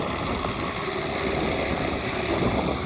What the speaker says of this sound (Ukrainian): Прийшов подивитися, як плужок оре Оптіконовський А4